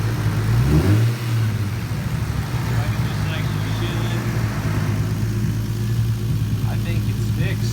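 A turbocharged Lexus IS300 engine revs once near the start, then settles into a steady, loud idle with slight throttle variations, recorded close up with wind or handling noise.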